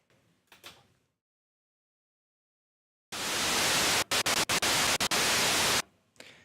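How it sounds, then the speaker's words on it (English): A loud burst of hissing white noise from the noise source of a Novation Bass Station II synthesizer starts abruptly, cuts out in a few quick stutters, then stops, with faint rustling before and after. "At the mixer section, we can also find the noise source"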